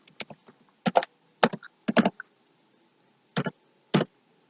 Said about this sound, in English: I'm going to type href, and then I'm going to write the name of this CSS file.